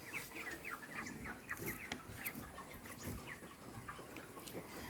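Thirty-day-old broiler chickens cluck and call steadily in an open, raised stilt coop, a faint, continuous flock murmur with overlapping bird calls and no talking.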